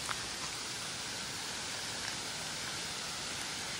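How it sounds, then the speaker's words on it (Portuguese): Steady rain falling, heard as a dense, even hiss with no breaks over the few seconds and no voices. "Choveu recentemente, tá chovendo."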